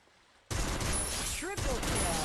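A burst of rapid gunfire erupts in a Free Fire mobile battle-royale match while shooting an enemy, loud dense shots following a brief quiet lead-in, with a player's voice talking over the racket.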